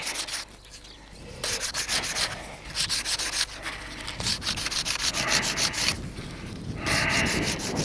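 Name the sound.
sanding wood with sandpaper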